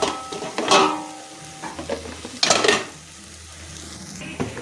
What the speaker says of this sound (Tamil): மசாலாவோட நல்லா அப்படியே கிளறி விட்டுக்கோங்க.